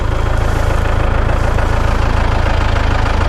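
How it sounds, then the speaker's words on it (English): A tractor engine runs with a John Deere 557 round baler hooked up, a loud, steady close-up idle with a rapid low pulsing throb and no pauses. "we got the John Deere 557 hooked up"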